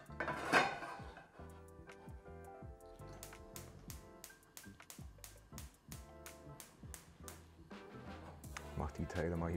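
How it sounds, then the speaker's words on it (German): A frying pan is set on a stovetop for a vegan omelette, with a clank near the start, then a long run of sharp, regular clicks and light kitchen clatter close by. "Für das Omelett ebenfalls eine Pfanne auf den Herd."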